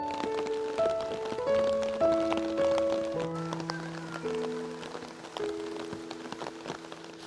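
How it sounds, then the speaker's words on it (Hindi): Light rain falls during mountain snowfall, pattering steadily on a surface or umbrella beneath a soft melodic tune. "बारिश भी हो रही है ना, हल्की फुल्की हो रही है"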